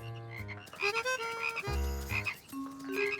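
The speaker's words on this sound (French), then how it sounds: "peux-tu aider toutes les grenouilles à traverser la rue?" Frogs in an animated children's cartoon croak in a run of loud, resonant, tonal croaks, several overlapping calls rising and falling over about three seconds.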